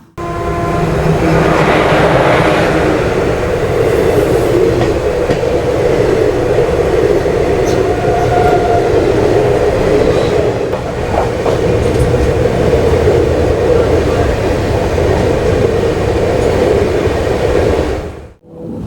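The Cheran Superfast 12673 express, running from Chennai Central to Coimbatore at speeds up to 130 km/h, roars loudly and continuously from on board, wheels rumbling on the rails before the noise cuts off abruptly.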